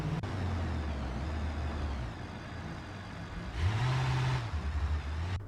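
Several vehicles in a BeamNG.drive motorcade roll past with steady low engine drone, a louder truck-like surge with an air-brake hiss partway through, continuous and fairly close, no talk.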